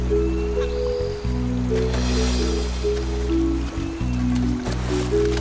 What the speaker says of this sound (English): As the rising tide rushes over the dam, the mullet fight against it to get back to the ocean.